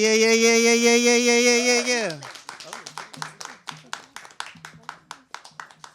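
After a sustained sung or held tone ends, an open mic audience breaks into scattered clapping, uneven individual claps building into a loose round of applause with a voice hum underneath.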